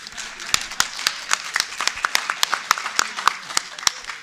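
Audience applause at a men's conference, a steady burst of many hands clapping at close range, crisp and dense throughout without speech over it.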